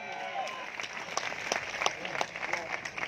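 Crowd applause at a political rally and mahapanchayat, a dense wash of clapping with distinct sharper claps standing out, a voice heard over it throughout.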